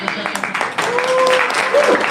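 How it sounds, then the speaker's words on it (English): An audience claps for a team on stage at a startup event's final, a short burst of scattered applause under a voice and some cheering. "Let's get applause."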